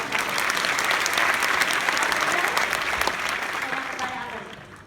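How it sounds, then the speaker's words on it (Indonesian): An audience at a live stage talk show in the Netherlands claps in a full, sustained round of applause that swells, holds steady, then slowly tapers off toward the end. "Kasih tepuk tangan."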